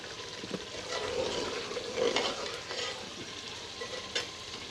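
Masala stir-fried in oil for achari chicken, a soft continuous sizzle with occasional scraping and stirring, at moderate-to-quiet level, with no one speaking.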